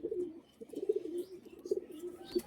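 Madras pigeons coo softly in a steady, low murmur of repeated rolling calls, fairly close but quiet, with no talking.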